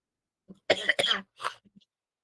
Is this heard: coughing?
yes